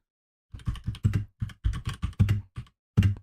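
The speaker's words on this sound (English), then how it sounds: "Excuse the typing noises." Quick, irregular bursts of clattering keystrokes on a computer keyboard during Command and Conquer: Red Alert 3 gameplay, close up, after a moment of silence.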